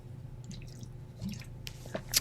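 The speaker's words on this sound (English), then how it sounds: "drink some water" A person sips water in a few soft, close gulps and small wet mouth sounds, quiet and irregular, with no talking.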